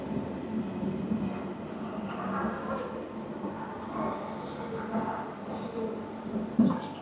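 EuroCity EC 378 train from Prague to Berlin rumbling at a station platform, a steady low rolling drone with faint wheel noise and a brief sharp squeal near the end.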